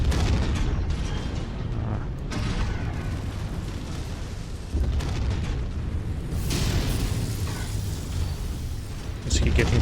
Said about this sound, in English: Is he getting an ammo explosion?